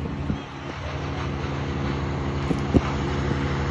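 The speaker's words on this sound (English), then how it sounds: "it is getting so windy and dark right now" Steady low rumble of wind buffeting outdoors, continuous and fairly loud, with a few brief bumps and knocks close by.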